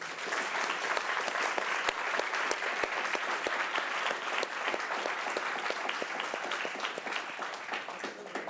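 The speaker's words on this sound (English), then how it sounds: "One big round of applause for our guests." Enthusiastic audience applause for guests at the close of an evening event, a continuous, fairly loud wash of many clapping hands with distinct sharp claps throughout, steady for the full stretch.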